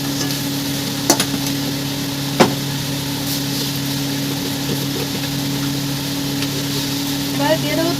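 Hilsa fish head and taro leaves are stirred in a pan, giving a steady low hum under soft scraping with a few sharp clicks of the utensil against the pan.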